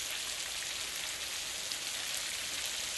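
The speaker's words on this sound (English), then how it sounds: "Quite a storm." A rainstorm pours down as a steady, dense hiss of rain on surfaces, even and unbroken throughout.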